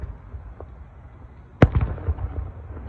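Fireworks at an outdoor display: a sharp loud burst lands midway, followed by several crackling pops and rumbling echoes over a quiet background.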